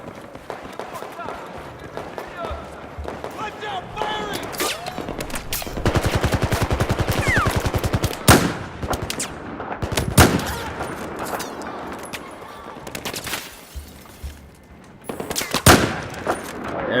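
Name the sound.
gunfire in Battlefield 4 video game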